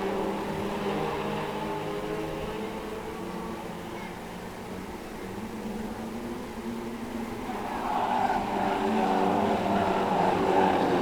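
Pro stock cars racing on the oval at Cowdenbeath Racewall, a steady broad engine roar from a pack of cars that holds through the clip and swells louder near the end as the field comes closer.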